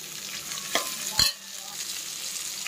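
Garlic cloves and onion sauté in a pan for a ridge gourd chutney, a soft, steady sizzle close by, broken by two brief knocks of a spoon against the pan.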